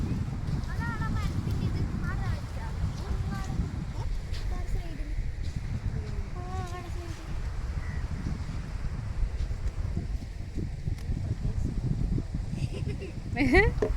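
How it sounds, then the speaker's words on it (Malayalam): Wind gusts across the microphone at a beach, a steady low rumbling buffet running throughout, with people talking and laughing nearby over it. "കാറ്റുണ്ട്."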